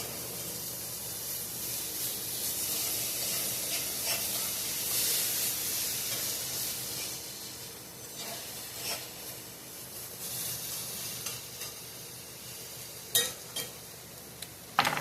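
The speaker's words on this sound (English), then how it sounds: "So let's give our onions a little stir around." Onions sizzling in a pan on the stove, giving a steady hissing fry, with clinks and scrapes of stirring toward the end.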